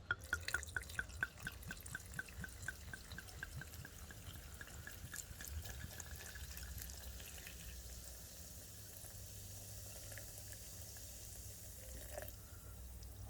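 Liquid is poured into a screw-top jar to just cover the ingredients for kyphi, an ancient Egyptian temple incense, giving a close trickling and dripping sound that starts with distinct drips and settles into a steady, soft wash.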